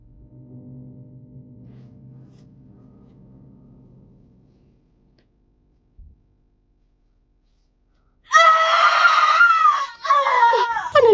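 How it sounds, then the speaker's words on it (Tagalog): A woman named Alona screams loudly, a sharp, strained cry lasting about three seconds, as an audio drama effect; it follows a quiet stretch of low, murmuring background and a brief thump. "bigla niyang marinig ang malakas na sigaw ni Alona"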